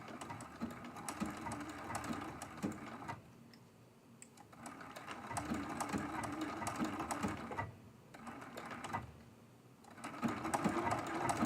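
Sewing machine stitching quilt appliqué in short runs, its rapid rhythmic chatter stopping briefly for turns, then resuming, close and steady.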